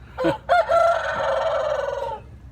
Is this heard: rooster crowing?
yes